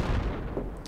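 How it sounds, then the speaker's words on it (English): Mortar shells landing in Project Reality on the Karez map, a deep, rumbling distant impact that rolls on for a moment with no voices. "mortars are falling closer now"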